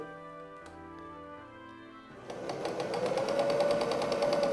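A sewing machine stitching patchwork fabric for a six-pointed star: a quiet start with a tonal hum, then a steady, fast mechanical whir that runs at a constant pace for the last couple of seconds, close and alone.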